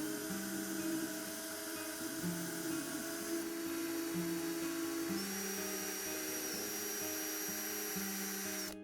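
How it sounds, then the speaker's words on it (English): A power drill boring through a model railway baseboard, a close, steady high whine with shifting motor pitch, running without a break and alone. "You want to make sure that your drill bit doesn't come out of the other side of the baseboard"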